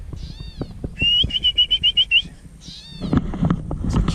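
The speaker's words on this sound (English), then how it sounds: "There's a cute little bird there whistling away." A small wild bird at a lakeside trail whistles a quick run of about eight bright, evenly spaced notes, fairly close, between rustling trail noise and wind.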